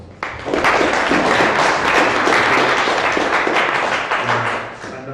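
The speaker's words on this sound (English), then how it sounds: "So please, an applause for Irma." Applause from a conference audience for a speaker at a Bitcoin and crowdfunding talk, starting abruptly and holding as a loud, dense wash of clapping before tapering slightly near the end, with no talk over it.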